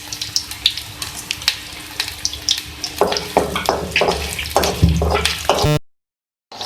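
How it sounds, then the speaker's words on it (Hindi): Whole spices, ginger and white cumin sizzle in hot oil as a tempering for mash dal. The crackle is close, with sharp pops and spits that grow denser before the sound cuts off abruptly into silence. "हम लगा देंगे बघार"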